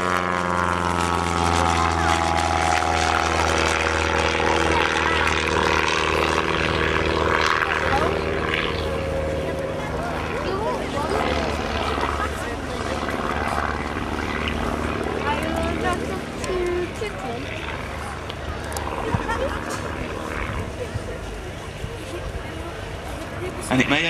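A propeller biplane arriving at the Leuchars airshow, its steady engine drone filling the air at a moderate distance for the whole stretch under a loud public-address voice.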